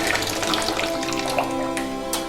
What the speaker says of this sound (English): I filled the sink with water straight from the water heater